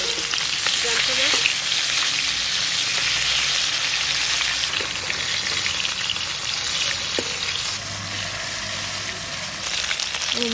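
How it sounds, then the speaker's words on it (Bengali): Koi fish frying lightly in hot oil gives a steady, close, dense sizzle that crackles evenly for the whole stretch with no talking. "বেশি কড়া ভাজা দেবো না,"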